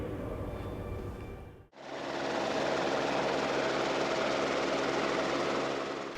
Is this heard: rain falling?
no